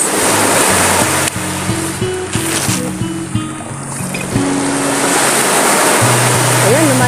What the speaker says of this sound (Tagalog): malakas na ang alon.